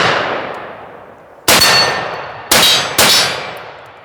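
An M14 rifle fires three sharp shots at steel targets, each followed by a ringing metallic clang that decays slowly, with the shots loud and irregularly spaced.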